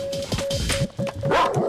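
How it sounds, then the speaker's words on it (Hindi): A dog barks in repeated yelps and woofs in a scene from a Bollywood children's comedy film, loud and close over a steady tonal music line, with no talking. "तू डरना मत, कुत्ता ही तो है"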